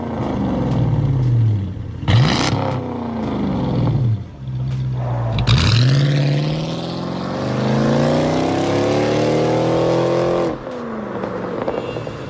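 A Chrysler 300C's engine cranks and fires into a deep roar, then revs repeatedly, rising and falling in loud, close pulls before settling back to a rumbling idle, with no talking.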